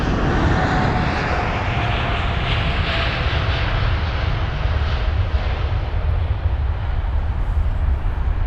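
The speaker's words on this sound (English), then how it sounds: "But there goes the American Airlines 787." An American Airlines Boeing 787 departs with a continuous far-off engine roar that stays broad and steady, a faint whine riding over it early on, and no voices.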